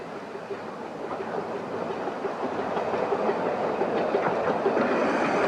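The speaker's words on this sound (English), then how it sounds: "Number 10, Dr. Sin, arriving at Hythe Station, was built by the Yorkshire Engine Company in 1931, a miniature of a North American Pacific locomotive" Miniature steam locomotive No. 10 Dr. Syn, a 1931 Yorkshire Engine Company model of a North American Pacific, rolls into Hythe Station with a steady rumble and clatter of wheels that grows gradually louder as it draws near.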